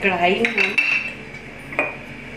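A metal kadhai wok being picked up and set down, ringing metallic clangs with a sustained resonant tone, then a second knock, close and clear with no voices.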